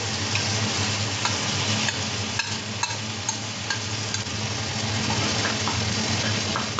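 Green chilli, ginger and garlic paste hits hot oil and sizzles loudly and evenly, a thick hiss with scattered crackles and light stirring clicks, close up and with no speech.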